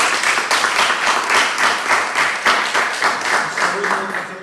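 Audience clapping at a Spanish talk on legal aspects of software development, a steady, dense round of applause that runs the whole stretch at moderate loudness, with some speech-like murmur mixed in.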